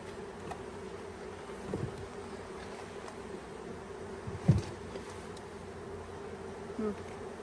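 Honey bees, including drones, buzzing around an open beehive during a beekeeping inspection, a steady close drone with a few louder passes and soft bumps, no voices heard.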